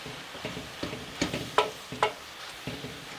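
A spoon stirs spinach with fried garlic and onions in a pot, giving soft rhythmic scraping strokes with a faint sizzle underneath, close and quiet.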